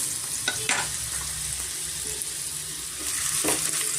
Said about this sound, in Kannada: ಮೊದಲಿಗೆ ನಾನು ಮಾವಿನಕಾಯಿನ ಎಣ್ಣೆಯಲ್ಲಿ ಚೆನ್ನಾಗಿ ನಾನು ಫ್ರೈ ಮಾಡ್ಕೊತೀನಿ